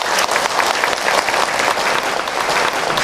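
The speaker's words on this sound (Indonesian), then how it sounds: "Tepuk tangan dulu, Bu." A congregation at an Islamic sermon breaks into dense, loud applause, a continuous crowd clatter that holds steady and full from start to end, with no voices over it.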